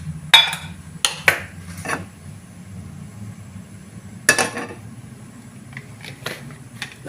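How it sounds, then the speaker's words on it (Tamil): A frying pan set down on a stove while cooking a chicken omelette: a few sharp, close metallic clanks and clinks spaced over several seconds, then lighter taps against quiet room hum. "இப்போ வந்து ஒரு பேன் எடுத்து பற்ற வச்சு அதில் எண்ணெய் விட்டுருவோம்."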